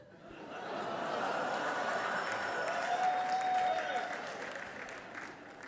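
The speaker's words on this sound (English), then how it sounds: "a pitter-patter of applause is the right response to that joke" Light, thin applause from a comedy club audience after a joke, swelling gently and fading, with a few chuckles and murmurs scattered through the clapping.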